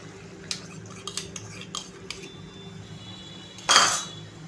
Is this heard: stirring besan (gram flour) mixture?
yes